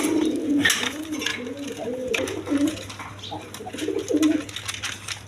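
Four pigeons housed together in one cage coo repeatedly in low, throaty rolling phrases, fairly close and moderately loud over a steady low hum and faint background noise.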